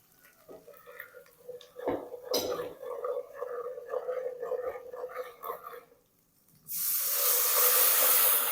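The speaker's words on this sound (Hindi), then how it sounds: "अब इसमें मैं ये मसाले डाल रहा हूँ।" Spices hit hot oil with browned onion, a close hiss and sizzle under background noise, followed by a louder, sustained rushing hiss in the last two seconds.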